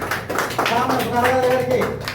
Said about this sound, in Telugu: అందరూ కూడా గట్టిగా ఒకసారి గట్టిగా గట్టిగా క్లాప్ కొట్టాలండి